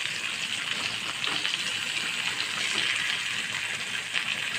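Potato and pointed gourd fry in hot mustard oil, giving a steady, dense hiss and crackle that carries evenly throughout without pause.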